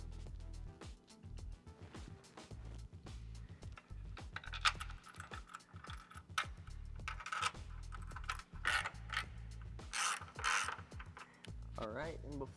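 A ratchet working on Rivian R1S running board bolts, with rapid clicking bursts and metallic rattles over a steady low hum, fairly close.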